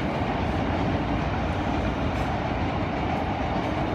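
A passing train roars close by, a loud, dense, continuous rumble of cars and wheels on rails with a faint clickety-clack, steady throughout with no voices.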